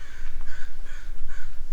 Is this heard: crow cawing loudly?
yes